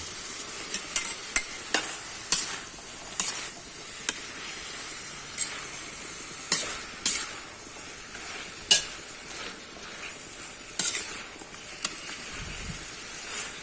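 String beans go into crab simmering in coconut milk with squash, and a utensil scrapes and clinks against the pot in irregular strokes over a soft bubbling simmer, with no talking.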